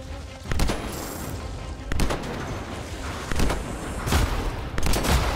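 Rapid gunfire and blasts from the video game Anthem, a dense run of loud repeated shots with heavier booming impacts every second or so, close and continuous.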